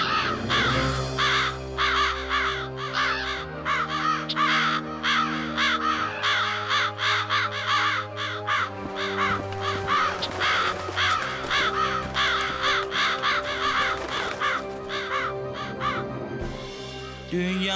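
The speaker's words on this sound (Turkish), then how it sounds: "Dünyanın bütün kargaları birlik olmuş sanki." A large flock of crows caws continuously and loudly, dense overlapping calls filling the air over a steady musical background.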